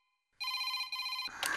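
A telephone rings in a film scene with a bright electronic trill, two quick bursts close and loud, cut off by a sudden clatter.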